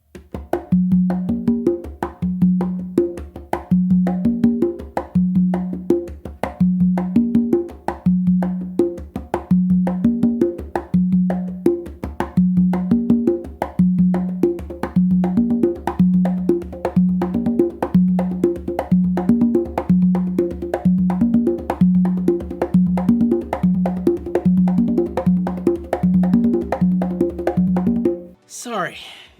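Tumbao rhythm played on percussion, a steady, repeating pattern of low, resonant hits with sharper accents, loud and close, continuing evenly for nearly half a minute before stopping abruptly.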